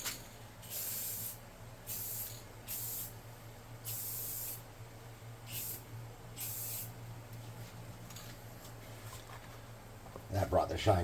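Short hissing bursts of spray clear coat on a painted Heroclix figure, about seven separate puffs of varying length, close and crisp, ending in brief handling clatter.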